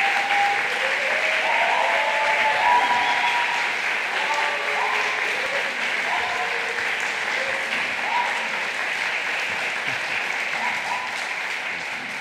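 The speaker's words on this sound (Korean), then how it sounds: "우리 한번 박수 한번 환영의 박수를 한번 보내드립니다" Church congregation at a Korean church in Rome applauding in welcome during a Sunday service, a sustained, even roar of clapping that holds for over ten seconds and slowly eases.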